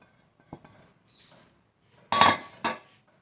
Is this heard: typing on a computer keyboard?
no